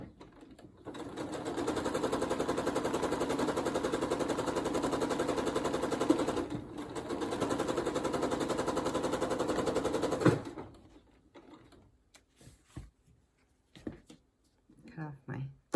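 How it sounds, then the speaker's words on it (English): A sewing machine stitches a quilt block in a steady, fast-running whir for several seconds, pauses briefly, then resumes before stopping, followed by quiet handling clicks. "go to the sewing machine."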